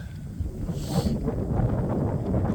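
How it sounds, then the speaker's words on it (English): Wind blows across open farmland, buffeting the microphone with a low, gusty rumble and a soft rushing hiss that swells slightly over a few seconds. "Block some of this wind."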